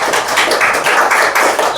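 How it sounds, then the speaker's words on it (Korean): An audience claps in a steady, dense burst of applause at a history lecture, loud and close, with no talking over it. "박수를 한번 쳐주셔야지."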